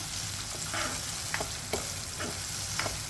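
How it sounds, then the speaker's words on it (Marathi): Chopped tomatoes and onions sauté in oil in a pan for a peanut-flour pithla, with a steady close sizzle and a few sharp spoon scrapes and stirs punctuating it. "कांदे इथे थोडे परतून झालेले आहेत त्यामध्ये आता मी हे टोमॅटो पण टाकते आहे"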